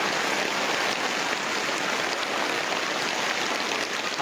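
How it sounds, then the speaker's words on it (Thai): Heavy rain pouring at a cave entrance during a rescue team's water-pumping operation: a dense, steady hiss of falling water that stays loud and even throughout, with no talking. "ฝนตกลงมาอีกแล้ว"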